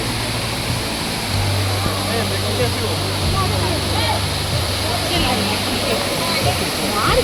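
Ranajilleda waterfall in Araku, a dense, constant roar of falling water filling the scene evenly from start to finish, with a low hum underneath.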